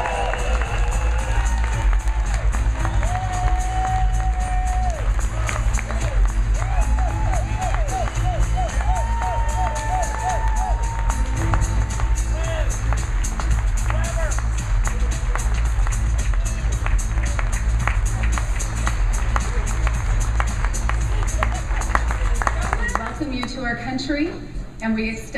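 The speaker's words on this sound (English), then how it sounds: "let's have a nice round of applause for your 2012 class of certified speaking professionals" An audience at an award ceremony applauds and cheers new honorees, a sustained roar of crowd noise and clapping under loud ceremonial music, fading near the end.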